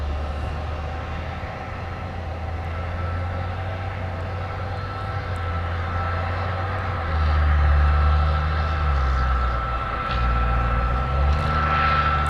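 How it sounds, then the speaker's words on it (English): A UPS Airbus A300 cargo jet touching down at an airport, a steady, loud engine roar with a low rumble that swells midway, heard from a distance and with no talk. "take a look at the replay of UPS 5556 touching down from Chicago Rockford with the Airbus"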